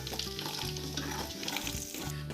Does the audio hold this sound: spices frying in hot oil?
yes